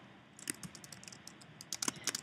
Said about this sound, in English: And now I'm typing her a little message.